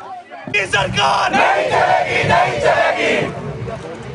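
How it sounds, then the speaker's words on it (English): A jubilant crowd at a political rally cheers and shouts loudly for several seconds. The roar starts abruptly and holds steady and close. "The crowd was jubilant."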